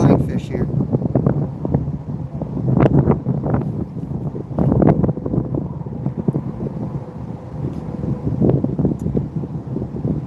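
Wind gusts buffet the microphone outdoors while fishing from the water's edge, a steady rumbling roar that swells and eases throughout, with muffled voices at times.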